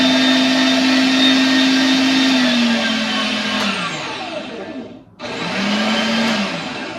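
Electric food grinder running on its grind setting, a steady loud motor whine with a strong hum that dips and slows near the end, cuts out briefly, then spins back up.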